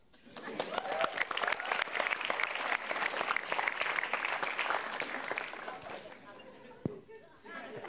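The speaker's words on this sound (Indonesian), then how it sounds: "Langsung beri tepuk tangan saja untuk Dedek" Audience applause at a stand-up comedy show, a dense burst of clapping that swells for about six seconds and then fades, with a brief thump near the end.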